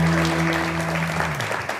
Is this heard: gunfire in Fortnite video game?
no